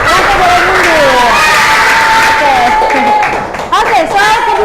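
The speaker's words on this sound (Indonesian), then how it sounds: "kasih tepuk tangan buat Rafa" Classmates clap and cheer for a student named Rafa in a classroom, a loud, steady burst of applause mixed with children's shouts and chatter throughout.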